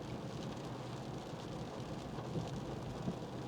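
Thunderstorm with steady rain and low rumbling thunder, a dense continuous wash of rainfall with deep rolling undertones, fairly far off and even in level throughout.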